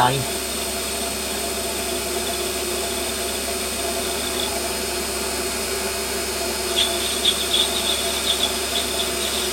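A metal lathe running at 950 RPM with the carriage fed by hand, a steady loud motor whine and hum throughout, with faint cutting chatter near the end.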